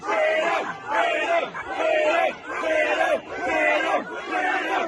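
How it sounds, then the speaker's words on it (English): Large protest crowd chanting freedom in unison, loud repeated rhythmic shouts rising and falling roughly every second with a strong police presence nearby. "A number of these protesters chanting freedom."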